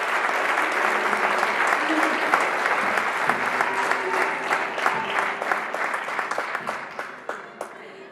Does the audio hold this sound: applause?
yes